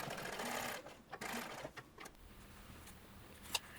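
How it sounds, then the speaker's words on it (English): A sewing machine stitches across the folded cuff hem of a shirtwaister dress, a quiet whirring run in short bursts with pauses and a small click near the end. "I folded the hem back on itself to stitch the shape."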